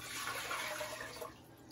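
Tap water running into a cooking pot for polenta, a steady close-up splashing pour that fades out toward the end.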